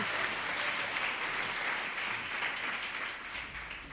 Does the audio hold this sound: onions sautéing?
no